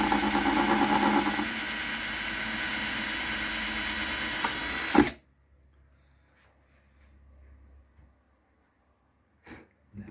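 Power drill with a 6.5mm bit boring a pilot hole, a loud continuous whirring drone for about five seconds that stops abruptly, followed by near silence and a couple of faint knocks.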